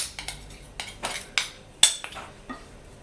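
A spoon scrapes and clinks against a bowl while mixing Moroccan sellou, several sharp irregular taps and scrapes spaced through the stretch, close and fairly clear with no talk.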